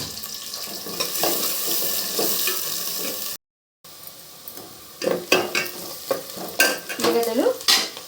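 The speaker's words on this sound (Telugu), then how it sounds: "ఉల్లిగడ్డలు వేసేసుకొని మనకు ఉల్లిగడ్డలు వేగేంత వరకు మనం వాటిని డీప్ ఫ్రై చేసుకుందాము." Onions deep frying in hot oil, with a steady sizzle and repeated stirring scrapes close by. A brief silent break falls midway, and there is no talk.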